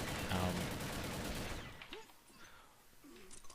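UMP-45 submachine gun firing in a video game, a loud rapid burst of automatic fire for about a second and a half, fading into quieter game sounds.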